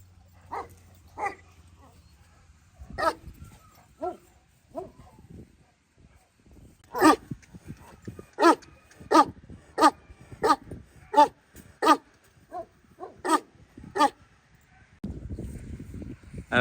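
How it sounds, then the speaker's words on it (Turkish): Kangal dogs bark at a Kangal dog farm in Sivas that holds about 150 dogs. The barks come as sharp, repeated volleys, some spaced and some in quick runs, at varying distances against a quiet background, ending in a burst of rustling noise. "Çok doğru, çok güzel, çok sevdiğim bir kangal köpeği."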